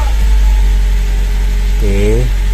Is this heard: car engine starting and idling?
yes